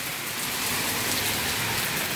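Heavy rain falls in bad weather in the northeast, a loud, steady wash of drops close by on a porch with no voices.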